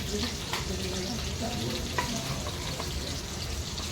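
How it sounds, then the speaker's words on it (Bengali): Chicken pieces coated in crumbs and cornflakes frying in oil, a dense, even bubbling sizzle heard up close and continuously, with a few faint clinks over it. "এগুলো ভাজা দিয়ে দিচ্ছি আমরা, ভালো হচ্ছে।"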